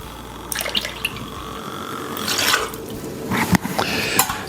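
A couple ounces of pineapple juice poured while mixing a summer ginger beer cocktail, a close, steady liquid trickle with small drips and faint glassware clinks, no talking.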